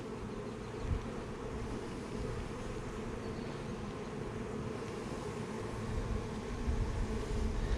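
Honey bees swarm around a hive, a steady, dense buzzing hum that stays even and close throughout with no voices.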